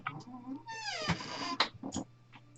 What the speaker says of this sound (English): My cat's making begging noises.